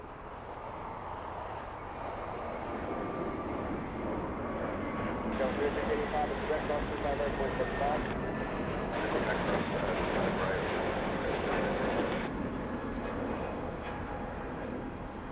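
A Delta Airlines airliner taking off from the south side of Los Angeles airport, a steady distant engine roar that swells slightly as it builds, with faint radio-style talk underneath.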